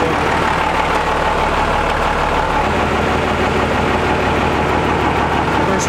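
A compound-turbo 12-valve Cummins diesel pickup rumbles loud and steady at low speed while nudging a gooseneck trailer, its deep engine drone filling the scene without any voices.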